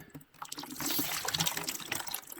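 Water from three stories of house plumbing draining into a bucket after a whole-house water filter is removed, a steady close rushing splash that starts abruptly after a brief lull and continues unbroken.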